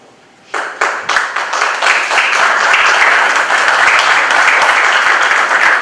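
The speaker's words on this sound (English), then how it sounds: "we had some extra time for applause during that question" Audience applause fills a hall after a candidate's answer at a city government forum, a sudden burst of many hands clapping that swells quickly and holds steady and loud to the end.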